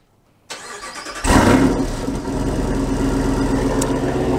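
A 2022 Jeep Wrangler Rubicon 392 Xtreme Recon V8 engine starts up close after a brief silence, cranking for a moment before catching with a loud surge, then settling into a steady, rumbling idle.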